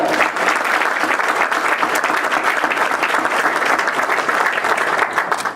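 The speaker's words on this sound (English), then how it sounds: "give them a round of applause" A government meeting audience gives county employees a round of applause, dense continuous clapping that holds steady and loud throughout, with only faint voices beneath it.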